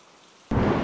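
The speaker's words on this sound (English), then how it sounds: "The rain hurts. It's painful. Thunderstorm!" Rain and thunder in the Roblox game Riding Hood, silence for half a second before a sudden loud burst of heavy rain and a rumbling thunderclap, close and alone.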